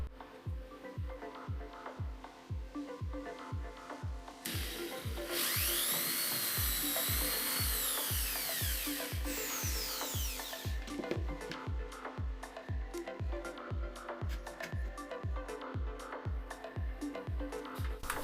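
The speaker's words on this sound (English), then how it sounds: "We need to make 2 through holes in the Soleplate." A drill bores through holes in a metal iron soleplate, with a steady rapid rhythmic chatter and a brief higher whining burst in the middle, close and fairly quiet with no talking.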